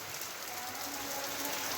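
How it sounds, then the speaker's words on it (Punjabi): Steady, dense monsoon rain in Punjab hisses without a break, a heavy downpour close by with no voices. "ਫੁੱਲ ਬਾਰਿਸ਼ ਆ ਗਿਆ ਦੇਖੋ ਜੀ"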